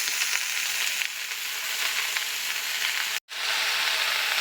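Spinach and taro frying in a pan give a steady, close sizzle with a constant hiss, broken by one brief near-silent gap near the end; no one speaks.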